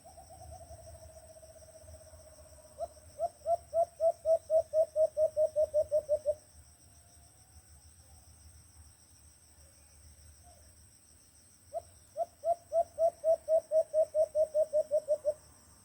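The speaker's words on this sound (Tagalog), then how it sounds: "At ito yung warning call, pakinggan nyo." A bird's warning call during a hunt, heard as two bursts of rapid, evenly spaced piping notes, each lasting about three seconds with a pause between, over a steady background of insect and cricket drone.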